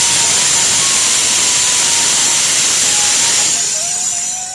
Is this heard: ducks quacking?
no